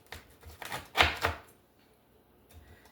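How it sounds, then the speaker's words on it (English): A knife cuts through a slab of hardened chocolate butter toffee with nuts, giving two sharp cracking snaps close to the microphone, then near silence with a faint later tap. "I'm going to try to cut it."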